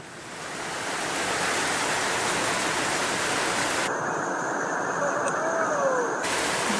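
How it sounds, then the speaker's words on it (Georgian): Heavy rain pours down outdoors during a Georgian piglet roast in Racha, a dense, loud, steady hiss that swells in within the first second and then holds evenly throughout. "მაგარი წვიმა წამოვიდა"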